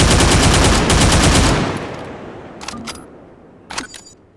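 Rifle gunfire in the video game City-17 District 47 rattles off as a loud rapid burst, then breaks off into a few scattered shots and mechanical clicks.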